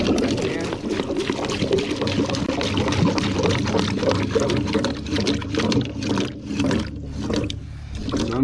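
Water rushes steadily through a drain catch basin with a loud, continuous gurgling flow, with a voice talking over it.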